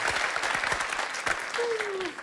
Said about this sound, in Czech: Jsem rád, že ten potlesk byl menší